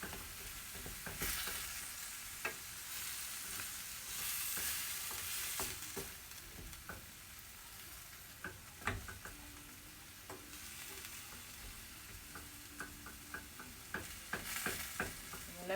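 Frozen spinach cooks in a pan, giving a soft steady sizzle broken by frequent clicks and scrapes of a utensil stirring, quiet and close with no talking.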